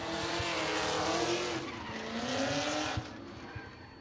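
A drift car launches off the line on a Formula Drift ProAM qualifying run at OSW, its loud, close engine roar blending with sustained tire squeal and skidding, dropping off slightly near the end.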